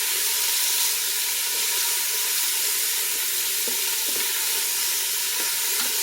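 A mirepoix of celery, carrots and onion sautés in a soup pot, giving a steady, close, unbroken sizzle and hiss with faint stirring clicks and no talk.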